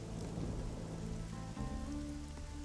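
Rain pours onto surfaces with low rumbling thunder in the video game Risen 2: Dark Waters, a steady dense patter with a deeper roll mid-way, fairly quiet and without voices.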